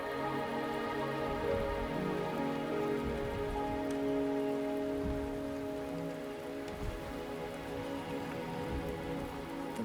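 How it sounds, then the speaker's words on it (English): Steady rain falls in Wuthering Waves, a dense, even patter on surfaces that holds at a constant level throughout, with no voices present. "The rain is subsiding, and the sky will soon clear."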